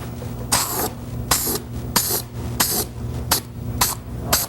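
A spray gun lays a second coat of primer on a car body in repeated short, loud hissing bursts, about seven passes with brief pauses between them, over a low steady hum.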